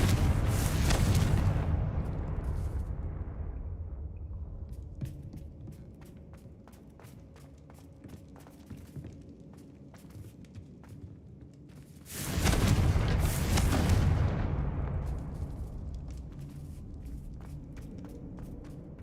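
Two fiery Confringo spell blasts from Hogwarts Legacy boom out, one at the start and another about two-thirds of the way in. Each gives a loud, broad burst that fades slowly, with quick footsteps pattering in between.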